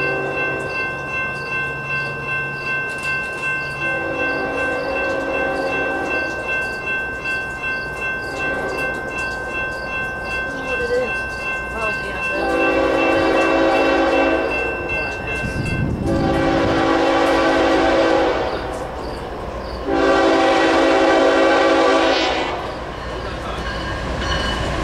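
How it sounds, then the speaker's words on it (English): A westbound Union Pacific manifest freight train led by Union Pacific locomotives passes near Chesterton, Indiana, loud and close, with steady rolling wagon noise and several long sustained horn blasts sounding in turn. "This one has Unipacific Power leading this manifest train."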